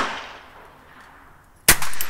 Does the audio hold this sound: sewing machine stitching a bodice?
no